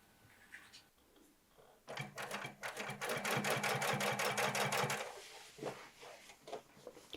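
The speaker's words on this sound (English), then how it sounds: "Now we will double top stitch the back seam." Sewing machine runs a fast, rhythmic burst of double top stitching along the back seam of jeans for about three seconds, loud and near, framed by quieter handling of fabric before and after.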